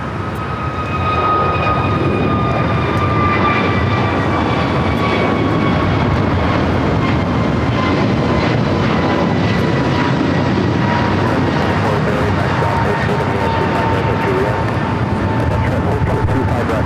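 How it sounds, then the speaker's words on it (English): A British Airways airliner arriving at LAX from London Heathrow, heard as a loud, continuous engine roar with a slowly falling whine that holds steady for the whole stretch. "this is the first of 3 British Airways flights, all coming in from London Heathrow"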